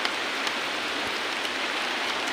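Heavy rain falling steadily in a village by a river, a dense continuous hiss of drops on surfaces with faint scattered patters and no voices.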